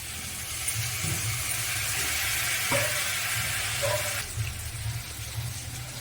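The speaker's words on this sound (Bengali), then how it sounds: "এবার দিয়ে দেবো আমি আদা বাটা।" Ginger paste goes into hot oil for a fish oil dish, giving a loud, continuous close sizzle with stirring scrapes throughout.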